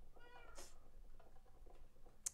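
Cats or ocelots meowing in the video game Minecraft, a couple of short mewing calls over a low game background, with a brief bright chime near the end.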